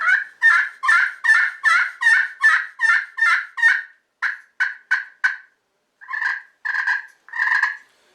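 A turkey friction call sounding a quick run of about ten sharp yelps, then a few clucks and short purring notes, loud and close with no talking.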